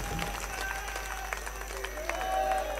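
Crowd at a political rally in India clapping, a scattered, fairly faint patter of hands with some audible murmur and background hum running underneath.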